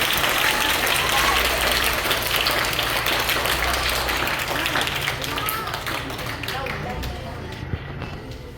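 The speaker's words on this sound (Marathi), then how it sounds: "सर्व विद्यार्थ्यांनी टाळ्या वाजवून त्यांचं स्वागत करायचं आहे" Students clap to welcome a guest, producing a dense, continuous patter of many hands. It stays loud and close, then gradually thins and fades toward the end, with voices mixed in.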